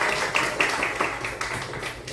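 A church congregation claps for their evangelist at the end of a worship service, a loose steady patter of hand claps at a moderate distance with little talking.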